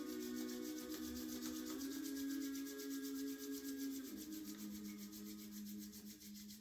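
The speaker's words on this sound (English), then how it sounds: "Start to create friction and warmth by rubbing the hands, the palms." Palms rub together in slow, continuous strokes, a soft close-up swishing friction that holds steady for several seconds and fades slightly toward the end, with no voices.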